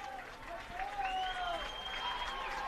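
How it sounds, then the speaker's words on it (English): A loyal home crowd at a 2022 Loras College football game against BVU cheers and applauds at halftime, a steady roar filling the stands with shrill whistles rising above it. "As you hear this loyal Duhawk crowd start cheering on their team."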